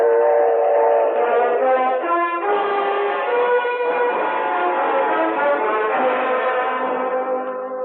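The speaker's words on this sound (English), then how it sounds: "With his wife Mabel, he boards a train to take his cause to the shrine temples across the nation." A train sound effect in a radio drama plays as a steady, tonal chugging and whistle-like chord, held loud for several seconds with slight shifts in pitch and no talk over it.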